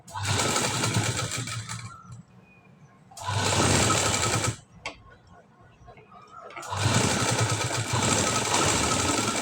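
A sewing machine stitching piping on a high-neck blouse runs in three loud bursts of rapid whirring, separated by short pauses with a brief click.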